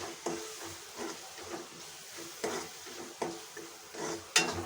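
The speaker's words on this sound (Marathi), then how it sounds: "आता पुन्हा हे मसाले मसाले वाटणामध्ये चांगले मिक्स करून घेऊ" Spices such as red chilli powder, onion-garlic masala and turmeric being stirred into a ground masala paste for matki curry, giving soft rhythmic scrapes of a spoon against the pot over a faint sizzle.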